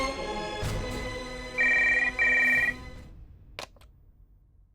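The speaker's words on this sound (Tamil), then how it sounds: "நான் பிரின்ஸ்க்கு ஃபோன் பண்ணி சொல்லிடுறேன்" A telephone rings in a Tamil TV serial scene: two short electronic trills, a brief pause between them, set against a low background hum, followed by a faint click and near silence.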